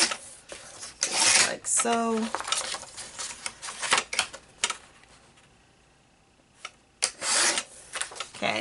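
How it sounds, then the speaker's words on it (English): Craft material cut into 2-inch squares with a cutter in a craft room: scattered sharp rasping and sliding strokes with a quiet gap, close by, and a voice speaks briefly. "So then I just use the marks on my cutter to cut 2 inches"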